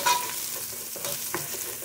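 Minced garlic sizzles and crackles steadily in a hot frying pan, a close, continuous hiss with occasional stirring scrapes and no voices.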